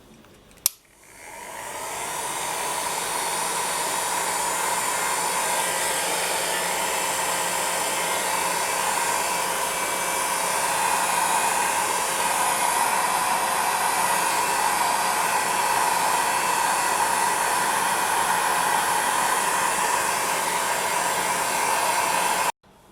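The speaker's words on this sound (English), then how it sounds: "you're going to use a heat gun to set it. So I'm just going to be having it on my middle setting" A heat gun on its middle setting blows hot air onto polymer clay to cure it, giving a loud, steady whirring roar that starts with a click and runs unbroken for over twenty seconds.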